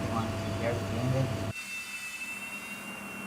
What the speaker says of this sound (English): And if you want to hear the engine.